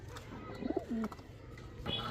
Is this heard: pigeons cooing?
yes